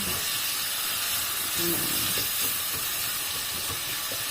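Onions sizzling and browning in a pan in a home kitchen, a steady hissing fry that holds evenly throughout, with faint clinks underneath.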